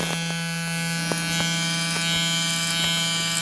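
Electric hair trimmer with a sharp blade cutting hair during a home haircut, a loud steady close buzz with faint ticks as it drags across the head.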